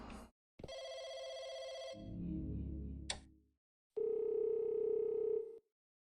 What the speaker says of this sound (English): We got the phone ringing.